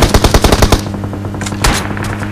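Rapid bursts of automatic gunfire from the mobile battle-royale game BGMI: a dense run of loud, closely spaced shots, then a brief lull and a few scattered louder reports.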